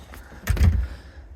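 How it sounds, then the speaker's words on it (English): A door swings shut with a single soft, close thud, and a faint rattle follows on an otherwise quiet indoor background. "I'm just gonna close the door."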